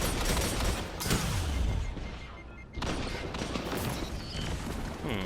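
Luna's Howl hand cannon firing in a first-person shooter, heavy booming shots over dense game noise, loud and continuous throughout.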